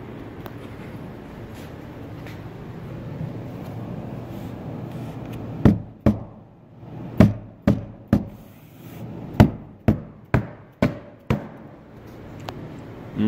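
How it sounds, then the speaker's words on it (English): Hammer blows knocking a panel down while assembling a Stewco Manufacturing DIY kitchenette cabinet, about ten sharp, loud strikes in an uneven series after a quieter stretch of low room noise. "Make sure you hammer it down,"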